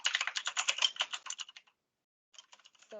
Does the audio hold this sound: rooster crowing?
no